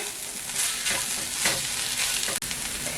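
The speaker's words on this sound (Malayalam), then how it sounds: "ഇതെല്ലാം കൂടെ ഒന്ന് കൂട്ടി യോജിപ്പിക്കട്ടെ" A green chilli mixture stirred in a frying pan while making an iftar snack, with a steady sizzle broken by scraping strokes of the spoon and one sharp knock near the end. No voices.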